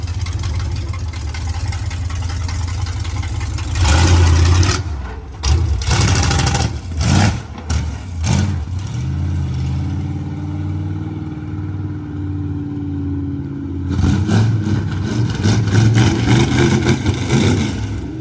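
A car engine fitted with a Holley carburetor, slightly out of adjustment, runs close by with a steady idle broken by several throttle blips and revs.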